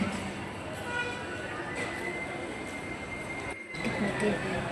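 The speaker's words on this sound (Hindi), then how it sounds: "और ये बहुत तेज़ चलती है, आवाज़ कान में लगती है ट्रेन की।" Train moving fast through a railway station, a loud, steady rumbling roar with a brief break before continuing.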